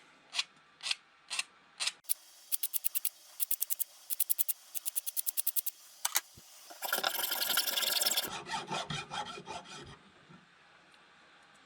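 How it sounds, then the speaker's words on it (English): A small file rasps across the sides of a handmade fishing lure in quick, crisp strokes, first in short separate pulls, then in rapid bursts, ending with a denser, louder stretch of rubbing up close. "now we can take a smaller file and take the roughness out from the sides"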